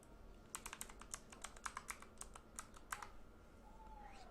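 Rapid, uneven keystrokes on a computer keyboard as an address is typed, a quiet run of about a dozen clicks over a low steady background hum, then the typing stops.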